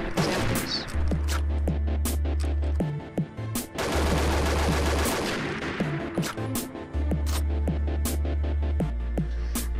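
M417 rifle from Combat Arms firing in rapid automatic bursts, sharp cracks in quick rhythm with brief gaps, loud and close, a low throbbing hum underneath.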